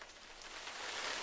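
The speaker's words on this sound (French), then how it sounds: "il y a une bonne pluie fine" Light summer rain falls steadily outdoors, a dense even hiss of fine drops that swells slightly louder toward the end, with no voices.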